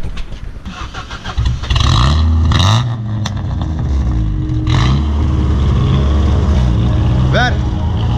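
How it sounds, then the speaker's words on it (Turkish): A Ford Fiesta XR2i engine cranks and catches, then idles and revs in rising surges, close and loud, while people talk quietly nearby. "marş alalım canım"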